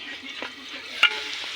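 Jackfruit pieces fry in a hot kadai with a soft, steady sizzle and a couple of brief scraping knocks, close and fairly quiet.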